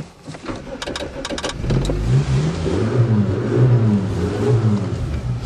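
Suzuki Swift engine starting and then revving up as the car pulls away on a test drive, a close, loud, rising drone with shifting tones after a few clicks and knocks.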